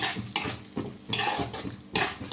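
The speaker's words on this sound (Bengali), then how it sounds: "এবার ভালো করে মশলার সাথে কষিয়ে নেব।" Capsicum and tomato are stir-fried with spices in a pan, with loud scraping strokes of a spatula in bursts of about half a second over a soft sizzle.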